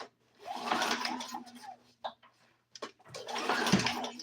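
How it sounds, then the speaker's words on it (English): An engine is gently spun over, giving bursts of mechanical whirring and rattling with brief pauses between, close to the microphone. "so I'll gently spin the engine over and see if anything flies out of there"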